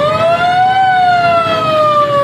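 An ambulance siren stuck in a traffic jam in Kohat wails loudly and close, its tone gliding slowly up and then back down over a low rumble of traffic.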